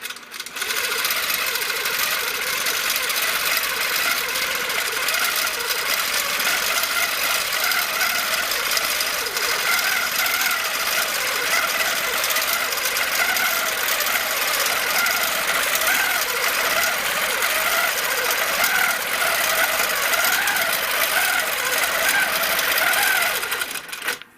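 A sewing machine stitches a decorative ribbon candy row of stitches, running as a continuous, fast mechanical whirr and rattle at close range for the whole stretch, steady in level and uninterrupted, with no talking.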